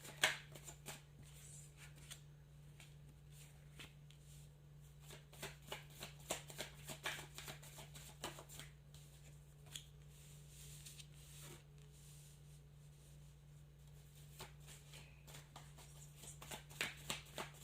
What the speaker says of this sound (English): I'm just going to do a shuffle and bring out some cards for you